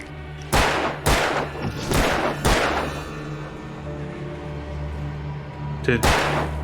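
Gunshots from the Alan Wake video game: four loud, sharp shots in a fast irregular rhythm, then a pause over a steady droning backdrop before a fifth shot lands near the end.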